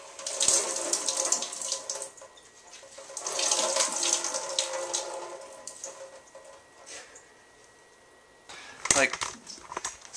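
A rain-soaked cloth is wrung out close by, water pattering and splashing in uneven bursts with a final splatter, while a person talks quietly.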